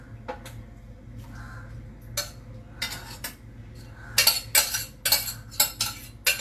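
A spoon stirs okra curry (bhindi) in a metal pan, giving a series of scraping clinks that are sparse at first and then come in quicker, louder bursts up close.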